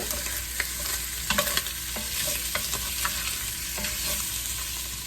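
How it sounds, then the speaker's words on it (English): Italian sausage links browning in a pan give a steady, even sizzle and frying hiss, with occasional light stirring clicks and scrapes over a few seconds, with no talking. "I'm going to let these brown for just a minute or 2."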